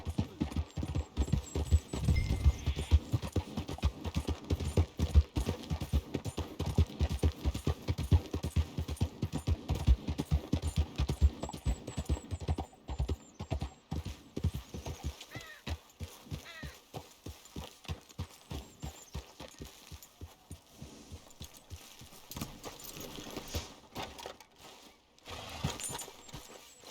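Horse hooves clip-clopping steadily in Red Dead Redemption 2, a close, rhythmic stream of hoofbeats that continues throughout, slowing and spreading out in the latter half.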